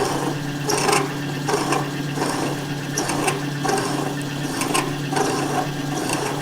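A key seat cutter scrapes slowly and steadily through a circlip groove while cutting rounded PTO splines, giving a loud, continuous rasping grind close up with a faint rhythmic pulse, and no voices.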